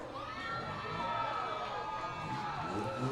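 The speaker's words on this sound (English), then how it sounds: "Sounds like the crowd is behind Tyler Eaton in the number 88X for Mad Dog" A county fair crowd at a race event cheers and shouts together in a sustained, fairly distant roar that lasts throughout.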